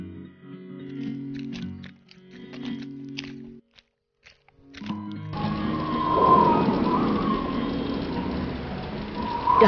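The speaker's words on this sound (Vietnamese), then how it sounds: "Trời, lại mưa rồi." Steady rain hisses and patters close by, starting abruptly after a quieter stretch of soft tonal sounds, with low rumbling underneath.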